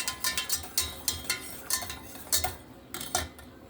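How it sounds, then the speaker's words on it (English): A fork taps and clinks against a pot of egg drop soup as eggs are whisked in, giving a quick run of light metallic ticks and scrapes close by, without talking. "add ribbons of the eggs in here through the fork, and then let it keep whisking"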